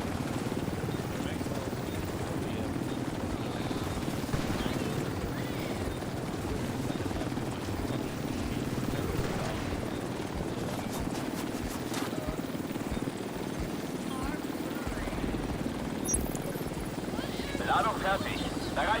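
A helicopter from the video game The Division 2 makes a steady, loud rotor drone throughout under radio-style voices talking.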